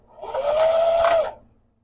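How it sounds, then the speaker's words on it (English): A sewing machine runs a short burst of stitching on a quilt-as-you-go mug rug with a quarter-inch seam, a close whirring hum that rises, holds for about a second and fades. "We're going to do 1/4 inch and then start sewing"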